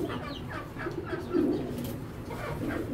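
Racing pigeons coo in soft, repeated, low throaty rolls, fairly faint and steady throughout, with a slightly louder coo near the middle.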